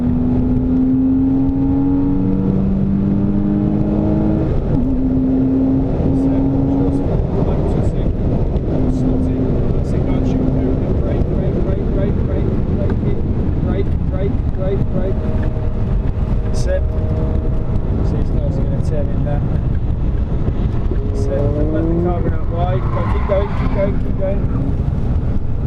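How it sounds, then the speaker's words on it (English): A race car at Silverstone accelerates out of a corner, its engine note climbing and shifting under steady in-car roar and wind noise, while a voice talks throughout. "keep accelerating, keep going, we're going to edge to the left where we're going to overtake on the straight, go on, stay on the power, let the revs build up"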